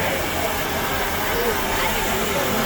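Steam hisses steadily from the diesel-oil-fired boiler of the Big Boy 4014 steam locomotive, a loud, continuous broadband rush heard up close without a break.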